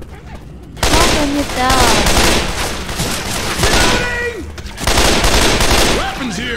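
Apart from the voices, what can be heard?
gunfire in the video game Left 4 Dead 2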